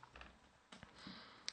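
Quiet clicking of a computer keyboard as an IP address is typed, a short scatter of soft keystrokes heard alone.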